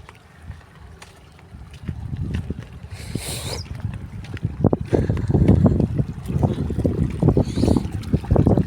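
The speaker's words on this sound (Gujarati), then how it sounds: "પાણી હાલે" Water runs steadily through irrigation channels in a field sown with coriander and fenugreek, a soft gurgling flow that grows louder and busier after the first couple of seconds.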